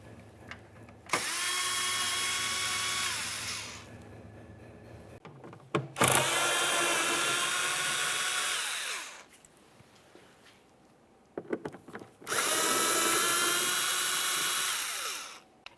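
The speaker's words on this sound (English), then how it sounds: "Now let's start removing our T15 mounting screws." Power tool backing out T15 mounting screws from a rear inner fender liner on a GMC Acadia, three loud high-pitched whirring runs of a few seconds each, separated by quiet pauses and handling clicks.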